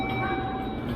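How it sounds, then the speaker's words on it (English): A train close by at a station platform in Japan, heard as a steady low rumble with a sustained tonal whine over it, continuous for the whole second. "So there is my train."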